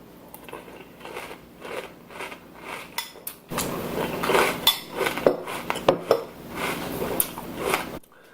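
Spoonfuls of Frosted Flakes cereal in milk scraped from a bowl and crunched, with quiet clinks at first, then louder, closer clatter and chewing bursts through the second half. No one speaks.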